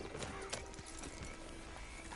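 A horse's hooves clip-clop in Red Dead Redemption 2, faint and uneven steps with a brief whinny-like tone, quiet and close under soft ambience.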